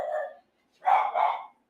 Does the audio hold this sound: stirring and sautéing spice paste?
no